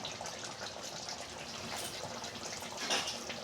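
Cooked potato curry (aloo dum) being poured out of the pan: a continuous wet, splashing gush of thick liquid and pieces, close and fairly loud, with a brief stronger slosh near the end.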